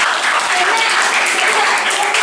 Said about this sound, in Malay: Bagi tepukan.